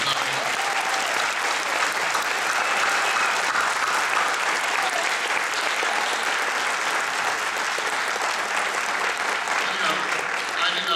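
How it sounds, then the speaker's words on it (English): A large audience at a school band concert claps steadily and loudly, a dense, continuous wash of applause that holds its level throughout. "they're the ones that deserve a round of applause"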